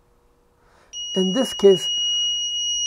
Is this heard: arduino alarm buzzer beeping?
yes